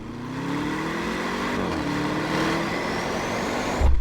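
A 2025 Audi RS6 Avant GT with a 4.0-litre biturbo V8 drones steadily at close range, its pitch shifting and rising slightly as it pulls, ending in a brief low thump.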